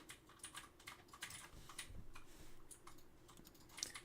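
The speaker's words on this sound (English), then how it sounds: "She's typing." Someone types on a computer keyboard with faint, rapid, irregular key clicks heard from a distance over a quiet call line. There are short bursts and brief pauses, and no voice is heard.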